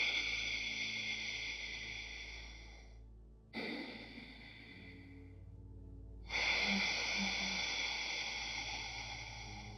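Ujjayi yoga breathing, the so-called Darth Vader breath, done with lips closed: long hissing, throaty breaths close to the ear, a drawn-out one, a short pause, a second, another gap, then a third, with no talk.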